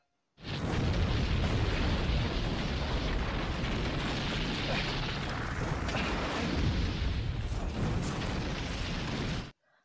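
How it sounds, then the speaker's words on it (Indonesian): A building explodes in a long, loud, sustained roaring blast that fills the whole stretch, rumbling with crackling debris throughout before cutting off abruptly. "sesaat setelah berhasil keluar, gedung itu pun meledak"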